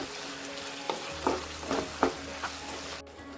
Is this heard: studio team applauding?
no